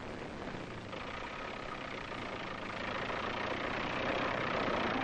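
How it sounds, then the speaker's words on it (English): A crawler tractor with treads strains under load as it pulls itself out of a dug-in hole, giving a steady, dense engine rumble that swells slightly louder toward the end, with no voices. "the tractor would pull itself over its own treads and out of the hole it had dug for itself"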